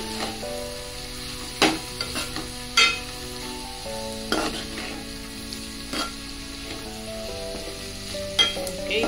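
Cabbage curry with turmeric, salt and ginger-garlic paste sizzles steadily in a pan, with several sharp scraping stir strokes of a spatula cutting through the frying hiss.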